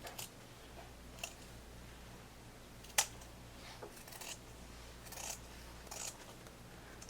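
A few sparse, crisp snips of scissors trimming fabric at a sewn collar, one sharper cut standing out against a quiet room hum, with no talking.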